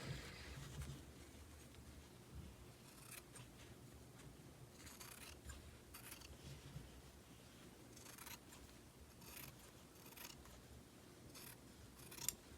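Scissors snipping the fabric seam allowance on a trouser pocket, with soft, faint, repeated cuts spaced across a quiet room.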